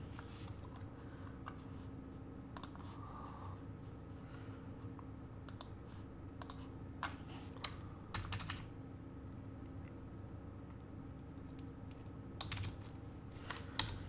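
Code is typed on a computer keyboard in scattered bursts of crisp key clicks, with pauses between them, heard close over a quiet room hum.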